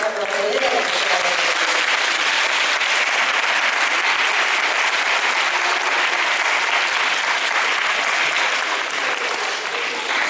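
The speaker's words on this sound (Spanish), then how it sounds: "Le vamos a dar un fuerte aplauso" An audience at a school Christmas ceremony gives sustained, dense applause, loud and even throughout with no pause, and a voice is briefly heard at the start.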